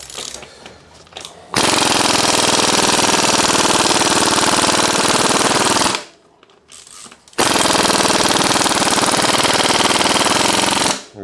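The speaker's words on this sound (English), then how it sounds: "I'm going to up the pressure on my air impact wrench to maximum" An air impact wrench at maximum pressure hammers at a seized bicycle bottom bracket in two long, loud, rapid rattling bursts separated by a brief pause.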